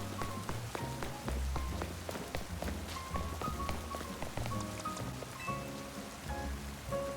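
Rain falls in the video game Pokémon Legends: Z-A, a soft patter of drops heard alongside tonal game music, with scattered sharp ticks over a quiet, continuous bed.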